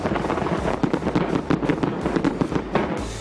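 New Year fireworks over Auckland's Sky Tower in New Zealand burst in rapid, irregular cracks and booms, many overlapping explosions in a dense loud barrage with a crackling tail, heard at a distance with no speech.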